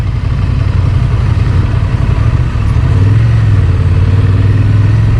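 A Honda Transalp motorcycle engine drones loud and steady on a test ride, a close, continuous rumble with a slight rise in pitch partway through and no voices.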